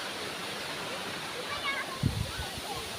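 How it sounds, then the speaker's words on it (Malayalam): A forest waterfall at Nadukani near Gudalur rushes as a steady broadband wash in the distance, with a brief splash-like thump near the end; faint voices murmur underneath. "ഇതാ വെള്ളച്ചാട്ടത്തിൻ്റെ ബാക്കി അവിടുന്ന് അങ്ങനെ വരുന്നുണ്ട് കേട്ടോ"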